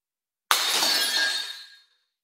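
A glass laboratory beaker breaking: a single sudden, close, loud shatter followed by bright tinkling fragments that fade out over about a second, then silence.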